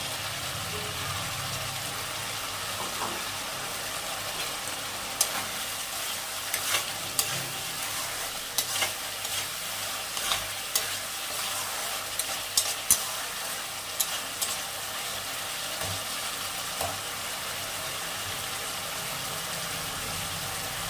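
Fried potatoes go into a pan of cooking cabbage curry with tomatoes, giving a steady close sizzle and frying hiss throughout, with scattered soft clicks and scrapes of stirring on top.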